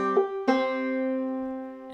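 A clawhammer banjo plays the final measure of Wandering Boy as two quick plucked notes followed by a ringing sustained note, close and unaccompanied.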